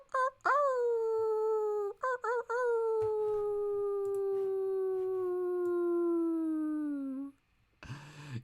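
Person imitating a wolf howl, a long sliding vocal wail with a few short broken starts, then a sustained falling tone lasting several seconds, loud and close.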